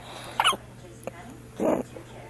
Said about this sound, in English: Oh, it's got the hiccups.